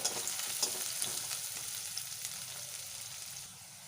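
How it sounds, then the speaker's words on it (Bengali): Chopped onions and green chillies fry in hot oil with a steady, close sizzle and crackle, a few stirring scrapes on top, easing slightly toward the end. No one speaks. "পেঁয়াজগুলো আমি একটু ভেজে নেবো"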